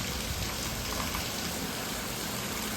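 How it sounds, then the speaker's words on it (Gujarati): Heavy rain falls during a monsoon downpour, a steady, even hiss of water that stays fairly soft and constant throughout, with no voices. "વરસાદ વધી ગયો તો"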